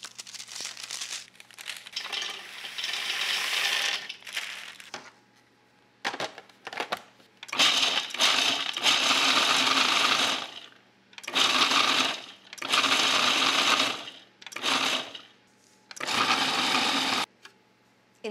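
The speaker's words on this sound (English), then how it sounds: "secret number one, going into the food processor" A food processor chops toasted almonds for Greek kourabiedes snowball cookies in loud, close bursts of whirring and rattling. The bursts are separated by short pauses, and no one speaks.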